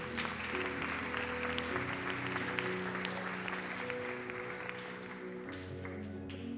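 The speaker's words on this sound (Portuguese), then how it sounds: "Uma salva de palmas para Jesus." Steady congregation applause fills a Seventh-day Adventist church in London, sustained without pause over held musical tones.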